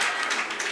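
Brief, dense clapping from an audience at a school maths quiz, a steady wash of applause with no pauses.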